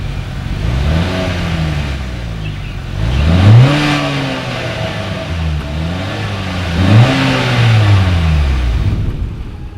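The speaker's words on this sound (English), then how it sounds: "As always, here is that exhaust clip." The dual exhaust with chrome tips on a 2020 Acura RDX crossover SUV revs up and falls back twice, loud close bursts rising and dropping in pitch over a steady idle.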